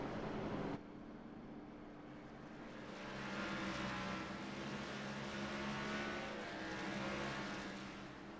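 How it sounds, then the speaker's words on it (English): Race car engines at Martinsville in the iRacing game, a steady loud roar of a pack of cars circling behind the pace car, swelling and fading gently, with no talk. "he's circling around behind the IRacing pace car once again."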